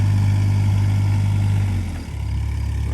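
2022 Sany SY16C mini excavator engine running, a steady low diesel hum that dips briefly before settling back to an even idle, close and continuous.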